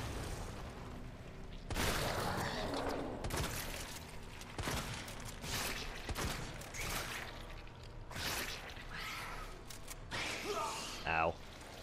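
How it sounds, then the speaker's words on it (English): Explosions and bursts of gunfire from the Resident Evil 2 Remake game come in repeated loud booms and crackling blasts, with a player talking over them. "How do you like bomb? How do you like explosion?"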